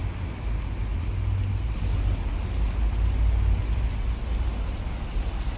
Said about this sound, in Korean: 비가 추적추적 내립니다.